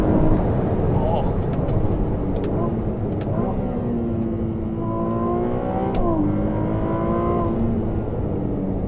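Revving of a 2022 Ferrari 296 GTB's hybrid twin-turbo V6, loud and close, with engine tone climbing and dropping through gear changes, joined by a speaking voice.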